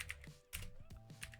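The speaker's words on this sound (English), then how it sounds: "we'll let the keyboard decide when I smash it" Fast, clattery bursts of keys being hammered on a computer keyboard, brief and sharp, with a short pause partway through and no talking.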